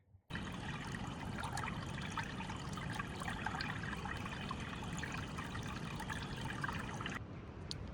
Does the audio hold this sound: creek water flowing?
yes